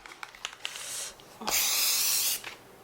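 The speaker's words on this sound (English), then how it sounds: "I'm gonna spray paint the whole front page and see what happens" A spray paint can rattles with quick clicks, then gives a short hiss, followed by a longer steady blast of spray onto a sketchbook page close by.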